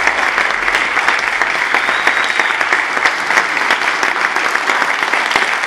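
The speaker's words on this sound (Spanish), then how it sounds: "Un aplauso para todo este grupo y el ballet Mujeres de Arena." An audience at an Arabic dance show in Durango applauds, with dense, steady clapping from a large crowd that is loud and continuous throughout, with no voices over it.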